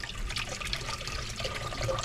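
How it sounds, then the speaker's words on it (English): Tap water runs and splashes steadily into bottles being filled with water to mix with soy sauce for a fish brine, a continuous close hiss with no talking. "And I just fill the bottles up with water."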